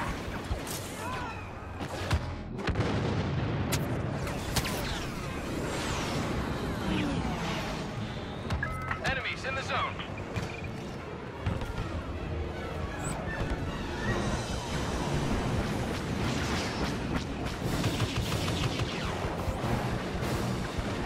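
Blaster fire and explosions from Y-Wings attacking walkers in the Star Wars Battlefront video game: dense, continuous crashes, booms and rapid shots, loud and chaotic throughout, with a few sharp bursts standing out.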